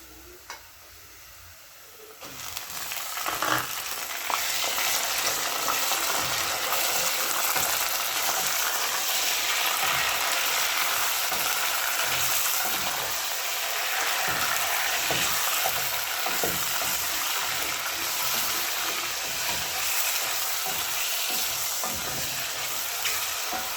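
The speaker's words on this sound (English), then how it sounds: "My onions are almost ready. Now I can add my meat." Beef and onions for a beef pilau fry in a pot, a loud, steady sizzle starting after a quiet first two seconds and continuing unbroken, with occasional stirring scrapes.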